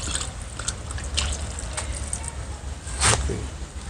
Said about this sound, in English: so you are filling in the water.